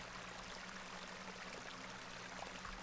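Icy cold water flowing steadily in The Excavation of Hob's Barrow, a continuous rushing stream with a faint low hum beneath, even and unbroken throughout.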